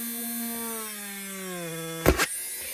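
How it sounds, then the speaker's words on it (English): A Dremel rotary tool drills holes in acetate, its steady high motor whine gliding slowly lower for about two seconds before a sharp, loud burst of broadband noise near the end. "And I'm just going to drill 2 holes"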